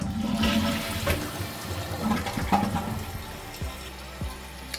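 A household toilet flushing, with a running fault and no handle, giving a loud continuous rush and swirl of water that slowly settles toward a lighter refill trickle, heard close up with no talking.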